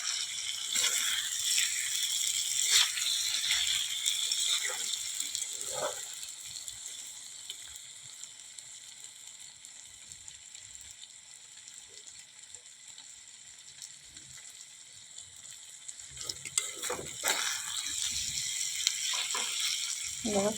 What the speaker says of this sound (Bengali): কড়াইটা নাড়াচাড়া করছি।